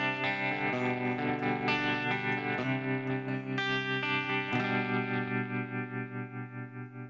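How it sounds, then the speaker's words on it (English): Electric guitar through the built-in tremolo effect of a Fender Tone Master Pro modeler, chords ringing with a regular pulsing throb that swells and fades, the last chord decaying slowly while the pulse continues. "Built-in tremolo."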